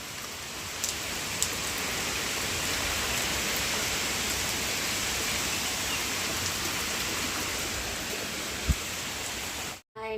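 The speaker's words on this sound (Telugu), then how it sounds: "ఇప్పుడు చూడండి వర్షం ఎంత మిండైందో. మొత్తం అసలు ఫుల్ వర్షం అనమాట." Heavy rain pouring down steadily outdoors, a dense, even hiss with occasional sharper drops, continuous and close for the whole stretch, with a brief thump near the end.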